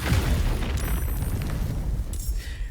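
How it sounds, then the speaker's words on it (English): An explosion in the video game Baldur's Gate 3 during a Tactician-difficulty battle: a loud, broad rumbling blast that fills the whole stretch and then tails off into a noisy decay. "Explosion!"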